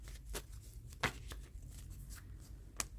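Prediction cards are shuffled and drawn in a quiet room, with soft riffling bursts and brief papery slaps between stretches of faint handling.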